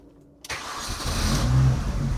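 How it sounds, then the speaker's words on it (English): A car engine cranks briefly and catches, then settles into a steady, rumbling idle close by. "let's get the car started"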